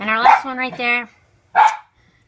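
A dog barks close by in a short burst of barks, then one more bark after a pause, over a person speaking.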